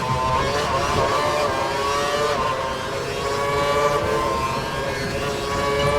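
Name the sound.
F1 car engine at full revs, from video game F1 2012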